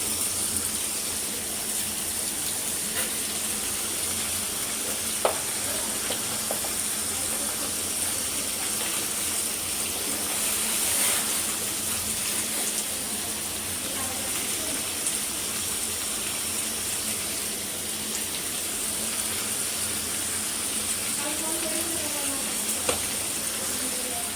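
Chicken meat sizzling and frying steadily in a pan for a braised chicken kosha, a continuous hiss with faint stirring scrapes and no talk.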